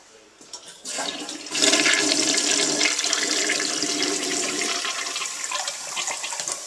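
A toilet flushes nearby, starting with a click and low gurgle, then surging into a loud, rushing swirl of water that holds steady and slowly eases off; a faint voice may be under it.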